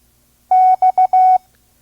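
A steady single-pitch tone keys Morse code for the letter X: a long dash, two short dots, then another long dash, clean and loud against near silence.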